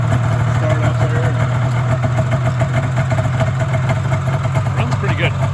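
A Polaris 340 snowmobile engine idling after start-up, a steady close, loud rumbling putter with a slightly uneven rhythm, running throughout.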